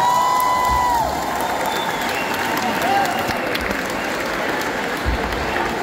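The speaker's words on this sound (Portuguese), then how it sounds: "Quero mais uma salva de palmas para o nosso grande mestre." A live concert audience applauds a veteran Angolan musician, dense sustained clapping and crowd noise filling the hall while faint sustained tones linger at the start.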